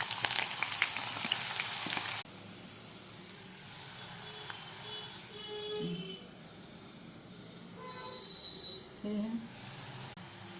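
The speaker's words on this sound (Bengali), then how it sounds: "এই প্রথমে কড়াইতে তেল দিয়েছি, তেলের মধ্যে পেঁয়াজ কুচি দিয়েছি।" Chopped onion fries in oil in a wok, a loud hissing sizzle for the first two seconds. A faint crackle and scattered utensil clicks follow.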